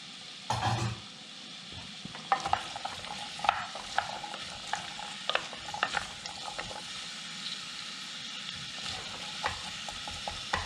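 Chopped onions and carrots sizzle in a pot for a Caribbean-style red lentil soup, with a soft frying hiss under repeated clinking scrapes of stirring, moderately quiet and close.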